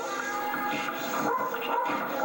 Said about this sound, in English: Someone's stomping a dog to death in stiletto heels.